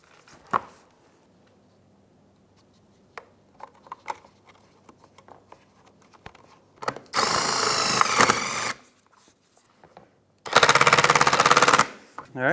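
A power driver threads a 10 mm bolt while a bumper cover is fitted on a 2007–2013 Acura MDX: two loud, close whirring bursts of a few seconds each, preceded by soft taps and handling clicks.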